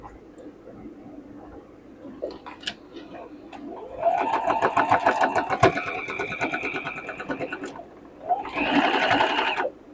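A sewing machine stitches a circle bag in two runs of rapid, even mechanical whirring, close by, with a quiet start, a short pause and brief talk at the beginning.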